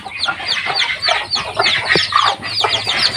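A hen clucks repeatedly beside her newly hatched chicks, close and fairly loud, in a series of short clucks with thin peeping in between.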